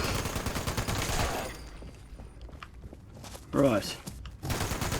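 The player's gun firing in Fallout 76, a rapid burst of shots at the start, then footsteps and scattered sounds, a short loud crash and more firing at the end, with a brief spoken word.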